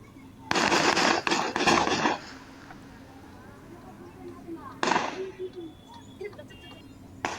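Several rounds of gunfire during a clash between two groups in a Bihar village, heard as bursts of sharp cracks in quick succession, then a later shorter burst, over steady outdoor background noise.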